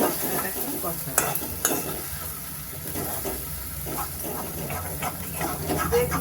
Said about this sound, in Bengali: গ্যাসটা আমি মিডিয়ামে করে দেবো, দিয়ে ভালো করে আমি মশলাটাকে কষাবো।